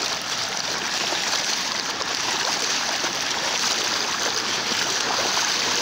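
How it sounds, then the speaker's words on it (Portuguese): Floodwater pours from an overflowing lagoon across a road at Praia do Forte after heavy rains, a steady, loud broadband rush of flowing water running unbroken throughout, with no talking. "A lagoa encheu, tá transbordando."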